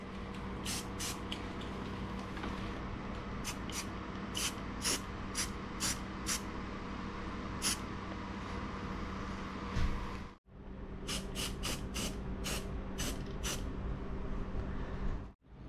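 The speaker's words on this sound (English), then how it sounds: "I'm going to go ahead and hit that with a little bit of red paint." Red paint sprays onto the inside corners of steel bumper brackets for a Ford Ranger FX4, in short, repeated hissing bursts with gaps between them. A longer continuous spray runs underneath, broken by a brief pause near the end.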